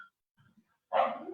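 Dogs bark in the background: a faint murmur of small sounds, then one clear, fairly close bark near the end.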